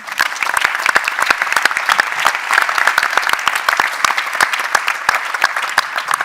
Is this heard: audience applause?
yes